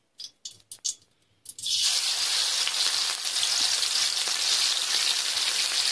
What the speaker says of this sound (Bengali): মধ্যে পেঁয়াজ আদা রসুন বাটা গুলো গরম তেলের মধ্যে দিয়ে দেবেন।